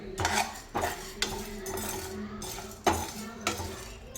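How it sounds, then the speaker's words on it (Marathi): Cumin, fennel and black pepper are dry roasted in a pan, with repeated close scraping and clinking of a spoon against the metal as the spices are stirred, and no voices. "आता हे चांगलं आपण भाजून घेऊया।"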